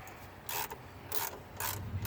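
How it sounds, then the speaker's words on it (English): A ratchet wrench clicks in three short, quick bursts of close mechanical ratcheting while working on a 2002 Ford Explorer, with quiet pauses between strokes. "Now this ratchet's about to go"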